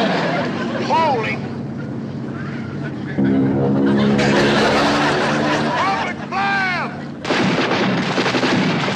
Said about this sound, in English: That's a boat down there firing at us.